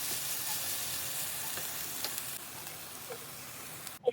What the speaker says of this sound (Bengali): 3 থেকে 4 মিনিট ভেজে নিলেই হালকা লালচে হয়ে যাবে।